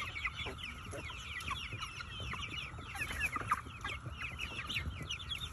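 Chickens cluck and chatter continuously while feeding on cicadas outdoors, a busy overlapping flock sound with soft scratching and pecking, moderately close.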